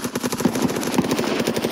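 Rapid automatic gunfire in the video game Escape from Tarkov, loud and close, a continuous stream of fast rhythmic shots across the whole stretch.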